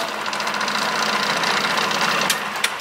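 An electric fan runs loudly nearby in a hot guesthouse room in the Khao San area of Bangkok, giving a steady whirring roar with a couple of brief clicks near the end.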